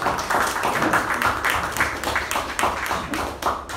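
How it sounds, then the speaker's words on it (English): An audience at a meeting applauds in a moderate, steady burst of clapping that runs throughout, fairly soft and somewhat distant. "Give applause for second."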